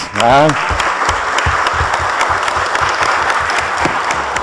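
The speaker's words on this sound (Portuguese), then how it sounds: "fazer a nossa saudação com a salva de palmas" Applause fills a hall during a solemn session honouring Carlos Alberto Silva, a loud dense crowd clapping for several seconds after a brief voice at the start.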